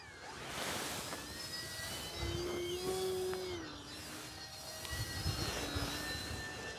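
A small E-flite Gee Bee R-2 UMX electric RC plane flies outdoors at about half throttle. Its thin motor whine rises and falls as it passes, faint and distant against open-air background noise.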